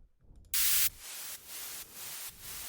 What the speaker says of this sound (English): I think I got white noise already downloaded.